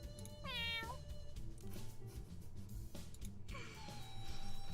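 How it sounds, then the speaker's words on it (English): A cat meows twice, clear and close, in a rising and falling cry, cat sound effects for the video game The Inn Between, over low background hum. "I held a casting call to get some cat sound effects"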